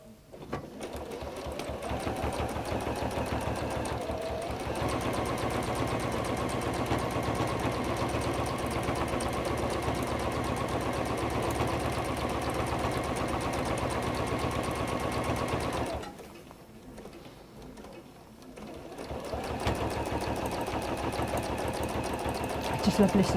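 A quiet sewing machine in a sewing workshop stitching steadily for long stretches with a smooth even hum, pausing briefly before running again, while a person talks over it.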